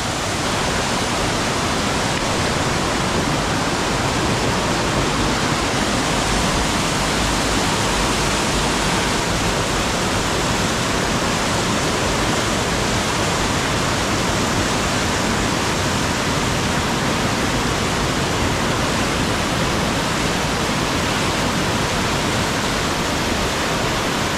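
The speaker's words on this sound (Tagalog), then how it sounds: "River crossing ulit. At mukhang malalim. Malakas yung agos." A strong, deep river current rushing at a river crossing on the Cabangan ridge loop in Zambales, a dense, loud, unbroken roar of water with no voices.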